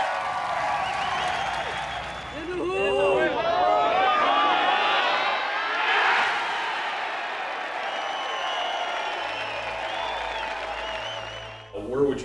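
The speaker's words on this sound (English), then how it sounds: "And let's listen to the applause." A golf gallery applauds a golfer walking up the 18th hole, a broad, distant-sounding wash of clapping and crowd noise with a voice speaking over it and a swell in the middle.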